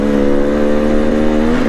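KTM 300 XC two-stroke dirt bike revving, a loud buzzing engine tone holding steady and close, alone without voices, out on a trail at 5 Mile Pass, Utah.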